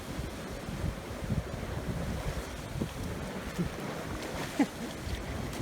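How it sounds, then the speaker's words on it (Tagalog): Strong ocean waves surge and crash against the rocky cliffs of Bangol Crags in Agno, Pangasinan, a rough rolling wash under heavy wind buffeting on the microphone, with a few sharper splashes near the end. "hindi pwedeng maligo dito kasi malakas yung alon"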